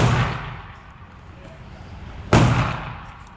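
IWI Masada Slim pistol fired at a range: a single loud, sharp report rings out near the end after a fading earlier blast, with outdoor background noise and no voice over it.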